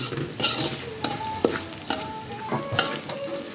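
Onion, garlic and ginger sautéing in a hot pan for pork sisig, with a steady close sizzle broken by several sharp stirring clanks and scrapes of a utensil against the pan.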